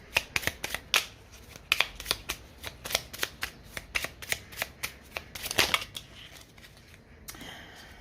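Oracle card deck being shuffled by hand in quick riffling bursts, a rapid series of crisp papery flicks with short pauses, close and clear, no talk.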